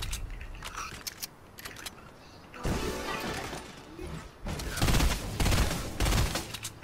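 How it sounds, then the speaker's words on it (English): Fortnite weapon fire comes in several harsh, crackling volleys, moderately loud and spaced a second or two apart, over steady game background noise, with players chatting at times. "Why are you shooting it?"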